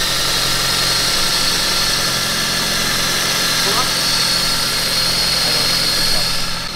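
A car engine idling high, above 1000 RPM, and stuttering. It gives a loud, steady running hum with small uneven wavers throughout, heard up close, with no speech over it.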